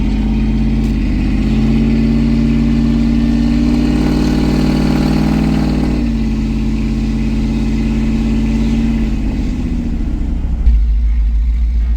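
Second-generation Ford SVT Lightning pickup with a 5.4-litre supercharged V8 and custom exhaust, loud and close, idling deeply and then revving up in a long sustained rise before settling back to idle.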